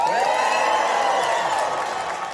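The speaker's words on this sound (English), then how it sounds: "I want to hear like the applause." A seminar crowd answers with a burst of cheering and whooping, sustained and fairly loud for about two seconds, voices blending into a rising and falling roar.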